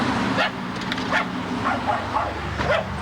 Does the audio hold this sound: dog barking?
yes